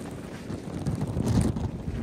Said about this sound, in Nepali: यस्तो छ हावा छ अवस्था।